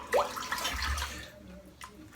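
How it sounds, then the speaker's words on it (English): Water trickles into a bowl of rich lather from an artisan Oleo Soapworks Empire shaving soap, a brief splash and wet churning over about two seconds, close and fairly quiet. "I'm just adding water as I go along"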